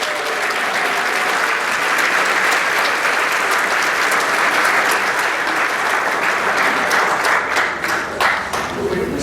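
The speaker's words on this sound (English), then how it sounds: "How about a round of applause for our softball seniors?" Sustained applause from a crowd at a senior student athlete luncheon, dense and steady clapping that continues throughout before tapering slightly at the end.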